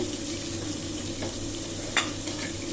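A tempering of cumin, mustard and fenugreek seeds, green chilli, onion, coriander and tomato frying in oil and ghee for quick tomato rice, a close, steady hiss and crackle with a brief splash-like burst near the end.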